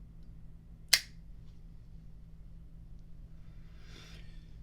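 A single sharp, bright strike from the flint wheel of a vintage Idealine petrol lighter, close and crisp, followed by quiet low hum and a faint rustle.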